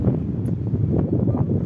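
Wind blowing across the microphone at Laguna Beach in Dubai, a steady low rumbling roar with gusty buffeting that fills the whole stretch, no voices.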